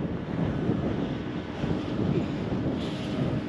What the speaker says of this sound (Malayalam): നല്ല കാറ്റടിക്കുന്നുണ്ട്, താഴെ നല്ല കാറ്റാട്ടോ